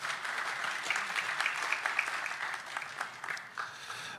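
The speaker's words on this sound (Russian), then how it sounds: "Успехи банка достойны ваших аплодисментов" An audience at a banking presentation on smart ATMs applauds Ipak Yuli Bank, a steady sustained clapping from many hands that holds at moderate level throughout, with no voices over it.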